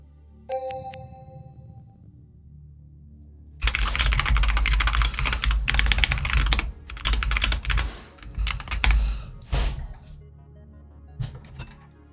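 Rapid clattering of a computer keyboard during competitive play, loud close bursts of typing after a few soft chime-like tones, stopping and starting in clusters.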